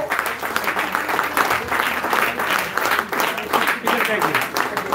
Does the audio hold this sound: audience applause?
yes